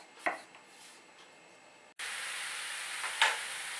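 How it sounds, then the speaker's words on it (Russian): A soft sizzling hiss from mushrooms frying in a dry pan swells suddenly louder halfway through, with a couple of sharp clicks of a utensil against the pan. "Жарю на сухой сковородке."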